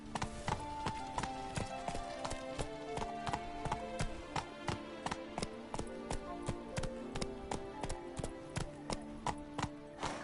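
Horse hooves clip-clop steadily in The Witcher 3, a close, even trotting rhythm of sharp knocks that runs throughout over a soft tonal music bed.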